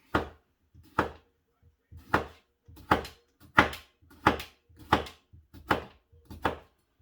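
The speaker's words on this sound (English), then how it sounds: "And I'm going to slice these babies up." Red potatoes sliced with a knife on a cutting board: about nine distinct, evenly spaced crisp cuts, close and clear, with no talking.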